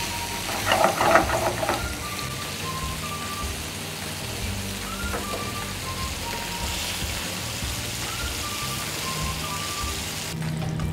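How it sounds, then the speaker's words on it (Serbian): Carp fries in a pan at moderate heat, a soft continuous sizzle and crackle running steadily under faint background tones, with a brief louder burst of spattering near the start. "Pržite ga na nekoj umjerenoj temperaturi da ne bi izgorio"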